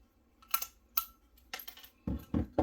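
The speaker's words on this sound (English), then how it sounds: "I'm going to take 2 more craft sticks, and I'm going to cut the rounded parts off again" Craft sticks are snipped one at a time, giving sharp crisp cuts at close range, a handful spread over a couple of seconds with brief silences between them and a heavier clunk toward the end.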